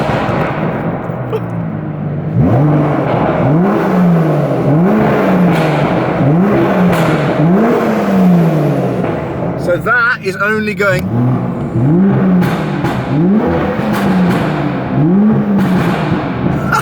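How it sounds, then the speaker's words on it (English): An Aston Martin DBS Superleggera in Sport Plus mode, engine still cold, gets revved repeatedly in sharp rising bursts with a brief loud crackle partway through, close and loud, with someone talking over it. "So don't tell me off for revving it when it's cold"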